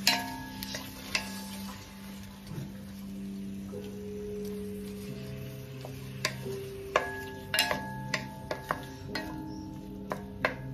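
Ginger sautés in a pan with a soft sizzle while a utensil stirs and scrapes, giving occasional sharp metallic clinks and taps close by, with no talking.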